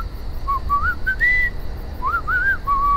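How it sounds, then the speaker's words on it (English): Lewis from The Walking Dead Final Season game whistling a short wavering tune, two clear melodic phrases over a quiet low background hum, no speech. "I just want to listen to Lewis whistle."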